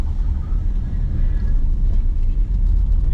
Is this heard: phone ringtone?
no